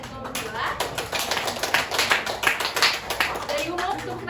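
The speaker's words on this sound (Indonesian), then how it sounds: "boleh tepuk tangannya buat Gina sama Eko berdua" Classroom applause for two students, Gina and Eko: dense, uneven hand clapping from a group of pupils, fairly close and steady for several seconds, with voices talking underneath.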